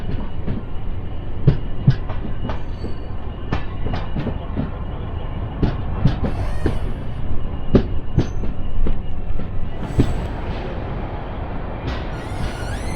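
The Charlapalli Superfast Express runs on from Chennai Central, rolling steadily with a continuous rumble and a series of sharp, repeated wheel clacks and clicks over rail joints, close and moderately loud, with no voices.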